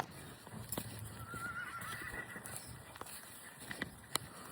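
A horse whinnies outdoors at an Estonian riding stable, with a few sharp neighs and snorts over faint wind and distant ambient noise, and no voices.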